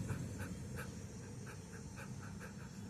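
A person imitating short, fast, shallow breathing, a quick steady series of soft puffs repeated about every half second, faint and close with no other voices.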